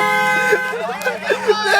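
A car horn toots in a strong steady tone with short repeated honks layered over it, close and loud, with voices and background chatter mixed in.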